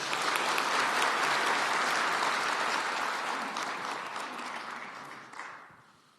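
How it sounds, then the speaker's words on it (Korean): An audience of farmers and agricultural officials applauds at a meeting with the South Korean president. Full, even clapping starts loud, then gradually tapers off to a few final claps. "박수 부탁드립니다"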